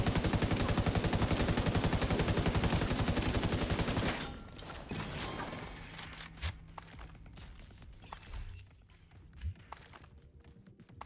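Rapid machine-gun fire in a video game, a steady, fast rattle for about four seconds, then scattered shots and mechanical clatter trailing off at a lower level.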